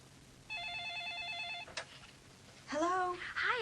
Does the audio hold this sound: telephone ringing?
yes